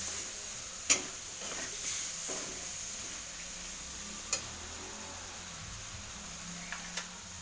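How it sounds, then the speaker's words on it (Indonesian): Spicy-sweet shrimp and water spinach stir-fry being stirred in a pan, with a steady close sizzle and a few sharp utensil clinks scattered throughout. "Lalu aduk lagi Bun sampai yang dimasukkan tadi layu bahannya dan bumbunya meresap ke udangnya ya Bun"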